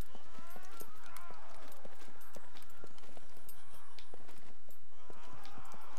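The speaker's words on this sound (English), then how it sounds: "I can hear footsteps" Footsteps in the survival game Scum: a quick irregular run of sharp, clacking steps, fairly close and steady throughout, with other ambient game noise in the background.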